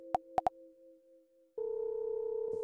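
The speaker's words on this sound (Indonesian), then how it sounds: "Coba telepon lagi, Nis." A phone call ringing tone in the video game Sakura School Simulator: three quick electronic beeps over a soft steady two-note tone, then a louder continuous tone that holds to the end.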